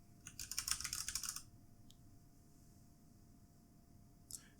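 A burst of quick keystrokes on a computer keyboard as a name is entered into an app search box, close and fairly quiet, followed by near silence with a couple of isolated clicks.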